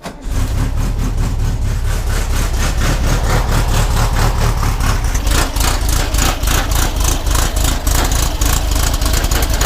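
A 1974 VW Super Beetle engine with a big 110 cam idles roughly while warming up, a loud, steady, close air-cooled chug with an uneven, lumpy pulse throughout.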